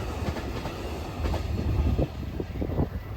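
A Canadian National train rolls along the tracks, its railcar wheels clattering in an uneven clickety-clack rhythm with a low rumble, heard from close by with no talking.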